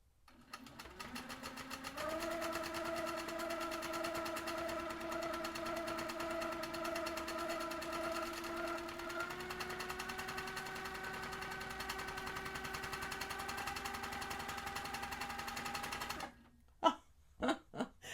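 A sewing machine stitches free-motion quilted feather shapes with a steady, close mechanical whir. Its pitch steps up and holds through a long run before it stops, followed by a few faint clicks.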